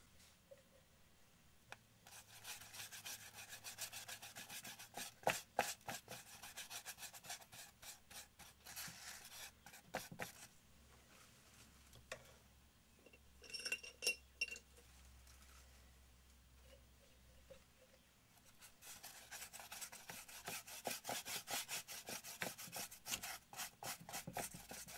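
Filler is sanded by hand before undercoat painting, a faint rhythmic rubbing rasp in repeated strokes with quieter gaps between bursts.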